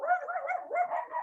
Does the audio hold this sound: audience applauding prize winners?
no